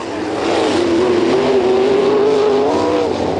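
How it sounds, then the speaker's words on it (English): Race car engine running loud at a racetrack, a steady sustained roar that climbs slightly in pitch and holds before easing off, heard alone without talk. "Shut the motor off, son."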